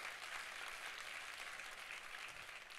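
Church congregation applauding during a sermon, a dense steady wash of clapping from a crowd, fairly faint and even throughout.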